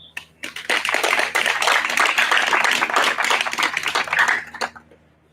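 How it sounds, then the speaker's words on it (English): An audience applauds at a military assumption of command ceremony in Alaska: dense, sustained clapping from a crowd for about four seconds, then tapering off. "please give these exceptional professionals a round of applause."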